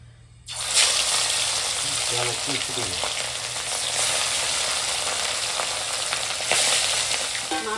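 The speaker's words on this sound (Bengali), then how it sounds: "মাছগুলো ভাজা হয়ে গেল" Fish frying in oil gives a loud, steady sizzle that bursts in after a short quiet start and holds evenly to the end, with a faint clatter partway through.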